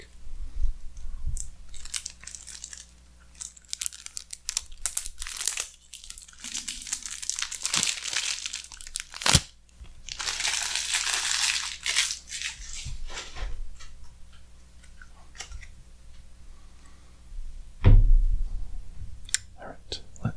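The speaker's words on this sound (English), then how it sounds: "Now we're going to open up the deck." A Magic: The Gathering Duel Decks Mind vs Might package is opened up close, with crinkling plastic wrap, soft tearing, and scattered clicks and taps in a quiet room.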